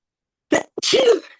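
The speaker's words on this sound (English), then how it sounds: "I gotta sneeze." A single close, loud sneeze: a short sharp inhale-burst followed by a longer explosive blast, alone in an otherwise quiet room.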